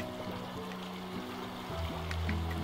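Flowing stream water in the video game Slime Rancher, a steady soft wash under game music tones, continuous and moderately faint, swelling slightly near the end.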